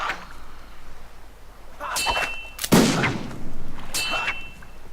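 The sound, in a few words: gunfire in a pirate video game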